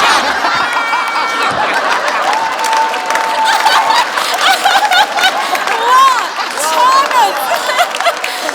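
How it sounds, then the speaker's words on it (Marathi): Studio audience at a Marathi comedy show breaks into loud, sustained applause after a comic dance performance, clapping dense and close with scattered laughter and chatter mixed in. "जोरदार टाळ्या!"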